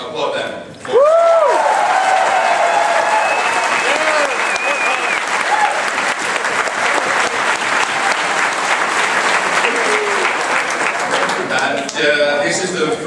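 Dense audience applause fills a hall at the Grand Masquerade, a White Wolf gaming event in New Orleans, sustained and loud for about eleven seconds, with whoops and a voice rising over the crowd before it thins near the end.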